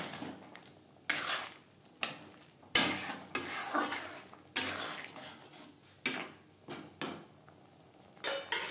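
Chickpea dal with cauliflower and fried cumin, coriander, bay leaf, dried chilli, pepper and garam masala is stirred in a pot, giving repeated scraping, knocking strokes of a spoon against metal at an irregular rhythm, close by.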